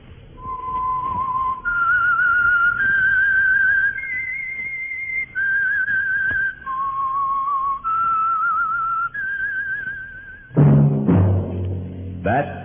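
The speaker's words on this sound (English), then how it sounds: "That whistle is your signal, the Whistler." Whistled theme signal of The Whistler, an old radio drama, with a clear, eerie melody of sustained notes rising and falling over a faint orchestral bed, ending in a sudden loud orchestral sting.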